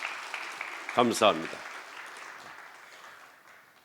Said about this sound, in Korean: 우리 찬양대를 위해서 우리 감사 박수 한번 올려드립시다